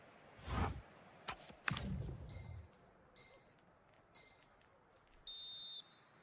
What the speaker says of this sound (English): And on that whistle, the first half comes to...